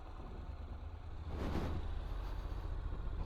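A 2021 Honda NC750X motorcycle engine grumbles at low revs below 3000 rpm, a steady deep rumble that swells slightly louder partway through and holds, close and without talk.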